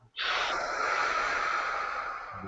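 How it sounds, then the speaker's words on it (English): A long, smooth exhale during a guided breathing exercise: one steady, close breath sound lasting over two seconds, breathy and airy, tapering slightly toward the end with no talk over it. "Exhale it out."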